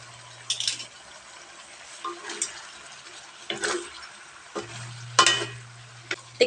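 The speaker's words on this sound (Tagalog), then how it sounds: "ilagay na natin yung patatas" Potatoes tipped into a simmering chicken liver dish and stirred in a pan, giving intermittent scraping and clattering bursts over a faint low hum.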